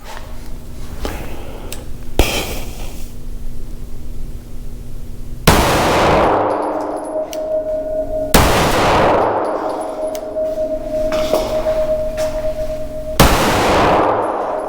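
A compensated Echelon pistol is fired outdoors, with several loud, sharp reports spaced a few seconds apart, each followed by a ringing metallic clang from the target.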